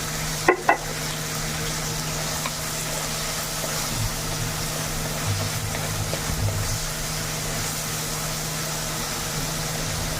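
Tomato and onion cook in a pan with added salt, a low steady sizzle and hum running throughout, with a couple of sharp knocks near the start.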